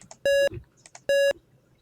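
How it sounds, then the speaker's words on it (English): Two loud, steady electronic beeps from a game setup on a component input, each about a quarter second long and evenly spaced, with faint background noise between them. "All the beeps."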